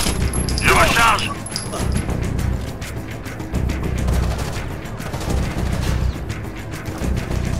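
Bursts of gunfire in the tactical shooter video game Rainbow Six Vegas, loud and rapid with sharp cracks throughout, over a busy game soundscape.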